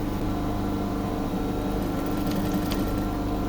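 Sewing machine stitching a jacket collar, a continuous close mechanical hum and whir with steady rhythmic ticking and no pauses.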